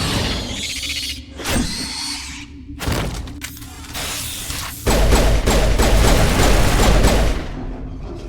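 Rapid bursts of gunfire in Mass Effect 1: Legendary Edition crackle through a busy mix of thuds and clanks, growing into a dense, loud stretch of shooting toward the end.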